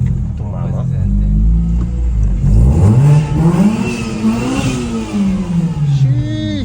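Modified car engine with a deep, aggressive Hellcat-like note revs up loud and close at an Italian car meet, rising and falling through several throttle pulls while people talk over it.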